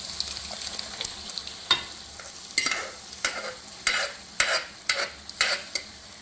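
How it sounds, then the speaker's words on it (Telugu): Cooked toor dal is added and stirred into Andhra-style mango dal in a pot: soft repeated scraping and stirring strokes with faint sizzling underneath, fairly quiet and irregular. "కందిపప్పుని యాడ్ చేద్దాం."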